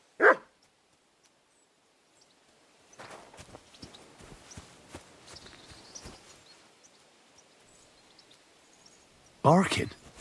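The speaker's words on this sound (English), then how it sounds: "Barking." A dog barks in the medieval open-world video game Kingdom Come: Deliverance II, with two sharp bursts at the start and end and faint footsteps and shuffling between them.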